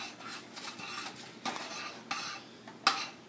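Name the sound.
stirring Rice Krispies to coat them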